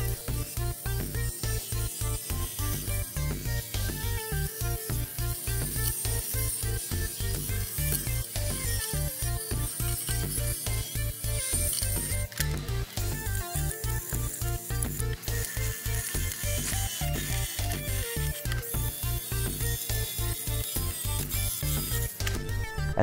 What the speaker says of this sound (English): At this point I had to switch to this circular steel brush attachment